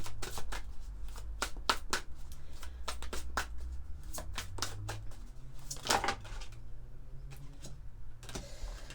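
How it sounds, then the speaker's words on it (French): Oracle cards are shuffled by hand at close range, a rapid series of crisp riffling flutters and slaps repeating for several seconds with no talk. "On va prendre quelques cartes de l'oracle Divinange."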